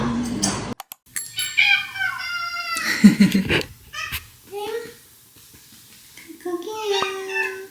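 An affectionate house cat in a Korean couple's home meows several times in short, rising calls, close to the microphone, while a person speaks briefly between the cries.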